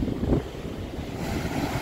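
Rough, stormy sea waves surge and crash against the shore at a remote coastal spot, a brief rumbling wash buffeted by strong wind noise on the microphone.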